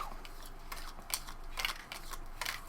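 Arcadia Quest board game cards being shuffled, a series of soft, crisp riffles and flicks in quick irregular bursts, close by and fairly quiet.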